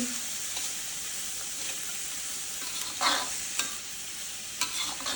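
Sandwich filling frying in a pan, a steady close sizzle and hiss with a few louder spatula scrapes and stirs breaking through.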